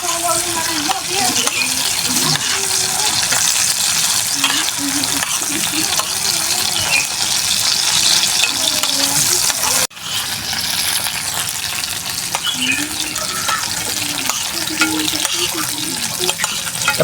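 Chili and shallots fry in a pan with a continuous loud sizzle, crackling and some stirring, steady throughout with a brief dip partway, and occasional voices in the background.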